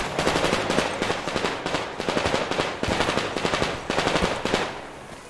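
Rapid automatic gunfire from the video game Metro Exodus, on a tugboat full of enemies, rattles out in several sustained bursts with brief gaps, loud and close.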